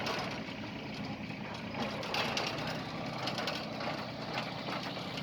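A Kubota GB130 mini tractor with a 110 cm rotary tiller drives across a plot, its small diesel engine running as a steady, moderately loud drone with a busy mechanical clatter and no talk.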